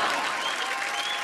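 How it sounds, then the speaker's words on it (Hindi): Dense audience applause at the B Awards 2018 show, a brief, steady roar of many hands clapping together. "क्या बात है, तालियां."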